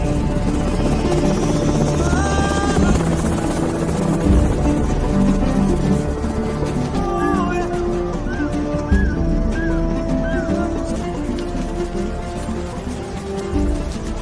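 A military helicopter flies close and loud with a steady heavy rotor thrum throughout, joined by scattered higher whistling tones in a tense rebel war scene.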